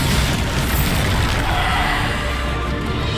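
Bombarda spell explosions in Hogwarts Legacy combat: a loud, continuous wall of booming blast and rumble, heavy low end with crackling debris, sustained throughout without a break.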